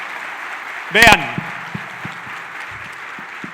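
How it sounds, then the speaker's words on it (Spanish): Applause for a lawyer at a political forum in Ecuador: a brief loud burst of clapping that quickly fades, followed by someone speaking. "Sé que el aplauso es para el abogado"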